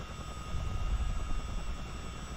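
Twin engines of a CH-47D Chinook helicopter run steadily in Microsoft Flight Simulator, a continuous low rumbling drone with a faint high whine, constant and fairly loud throughout.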